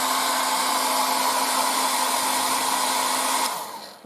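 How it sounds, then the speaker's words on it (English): An air dryer blows over freshly painted thin coats on a 1:35 Trumpeter E-50 Standardpanzer scale model, a loud, continuous whooshing hum that runs steadily and then cuts off near the end. "And of course, now the air dryer again, as always."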